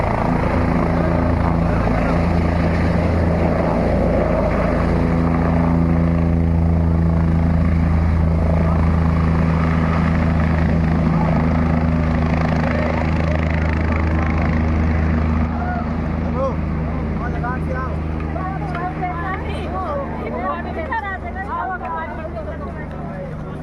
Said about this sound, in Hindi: ये देखिए कैसे हेलीकॉप्टर उड़ रहा है